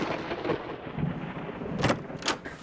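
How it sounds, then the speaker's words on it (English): Thunderstorm sound effect in an audio drama, with rumbling rain-like noise and a couple of sharp cracking bursts near the end, alone without voices. "It was a dark and stormy night."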